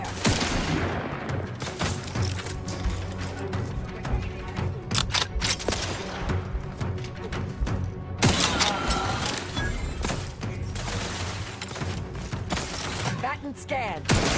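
Sustained gunfire in the video game The Outer Worlds, dense rapid bursts and shots with impacts filling the whole stretch, loud and continuous, with voices of characters speaking over it.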